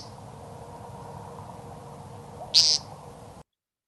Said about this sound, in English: the display starts with the male singing a nasal peent sound about every 5 seconds.